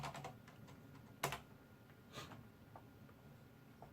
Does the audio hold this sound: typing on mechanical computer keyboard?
yes